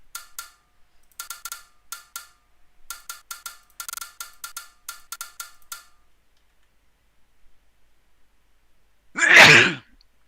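A single loud sneeze bursts out near the end, close and sudden, after a stretch of rapid clicking taps that stop and leave near silence.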